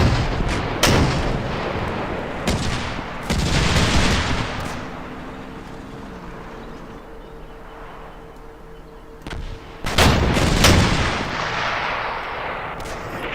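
Battlefield gunfire and artillery in the Combat Mission Market Garden war game, loud cracking shots and heavy booming blasts rolling out over a continuous rumbling combat backdrop, with no speech.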